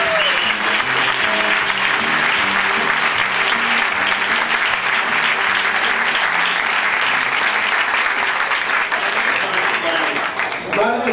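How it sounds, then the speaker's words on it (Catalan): A theatre audience at a Catalan word-play celebration breaks into loud, dense, sustained applause that fills the whole stretch, with a voice faintly audible at the start and again near the end. "un fort aplaudiment pel mag de les paraules"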